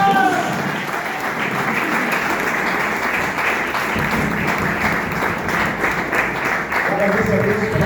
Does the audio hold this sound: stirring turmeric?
no